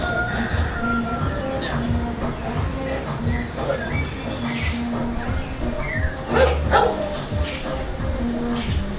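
Four dogs bark and yip repeatedly close by in Sandhill, Belize, while people talk over them.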